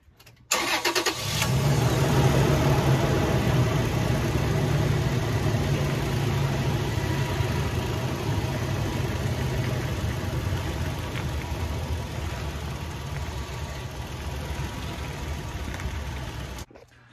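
Second-generation Toyota Tacoma fitted with 34-inch 285/75 R17 tires, its engine starting and then idling steadily and close by while the wheels are turned full lock.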